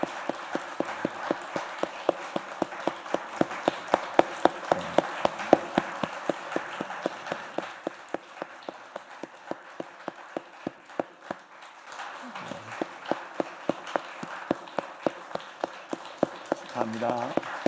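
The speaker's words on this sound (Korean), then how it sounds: "우리 계속 박수로 축하해 주십시오" A church congregation at an Easter Sunday service keeps up steady, rhythmic clapping in time, the beat carrying on throughout with brief voices and a short pause partway through.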